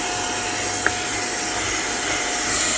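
HŌM handheld mini vacuum cleaner sucking up dust, a loud steady high whine that holds constant for a few seconds with no speech.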